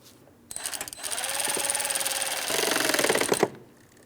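Power driver snugging a 10mm headed mounting bolt on the dual radiator and condenser fan assembly of a 2004-2008 Pontiac Grand Prix, a close, steady whirring run of about three seconds that ends abruptly, with no speech.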